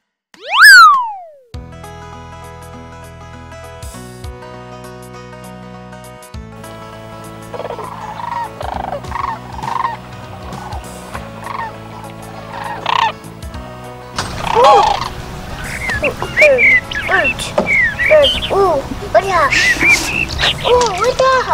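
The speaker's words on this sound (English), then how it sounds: "Birds." Birds chirp and call in quick, scattered bursts over a busy background that begins with a rising whistle and steady musical tones.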